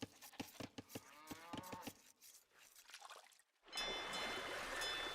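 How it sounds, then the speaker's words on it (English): Cattle in Age of Empires moo in a rapid series of short lowing calls, then quiet, followed by a steady watery rush of ambient game sound. "Another cow on the way in."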